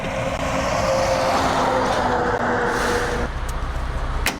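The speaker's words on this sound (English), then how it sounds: "large tanker trucks travel some of Idaho's most remote back roads" A large tanker truck rumbles along a remote Idaho back road, engine and tire roar loud and steady, with a brief hiss near the end.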